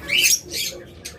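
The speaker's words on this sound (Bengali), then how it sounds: "এরপর এখানে রয়েছে একটা চমৎকার হাই মিউটেশনের পাখি" A personata lovebird of a high mutation gives three sharp, close, high-pitched squawks in an aviary, with short pauses between calls.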